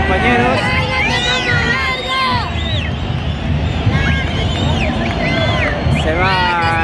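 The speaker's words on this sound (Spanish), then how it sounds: "Se va en medio del abucheo." Football stadium crowd at an LDU Quito versus Barcelona match, a dense roar of booing and whistling from the stands, loud and continuous with sharp whistles rising over the din.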